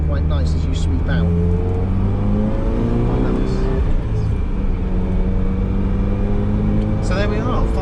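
A Ferrari 328 GTB engine drones steadily through a tight, slow corner, with low rumbling tones shifting in pitch under continuous talking heard from inside the car.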